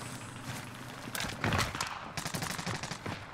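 Gunfire in the video game Warzone crackles in a dense burst of rapid shots, fairly distant and muffled, swelling in the middle before trailing off into scattered reports.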